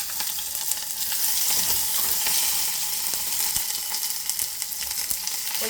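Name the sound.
onions frying with dried chili and curry leaves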